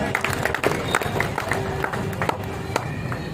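An audience at a gym bodybuilding competition applauds steadily, a continuous wash of clapping and crowd noise with sharper individual claps standing out throughout.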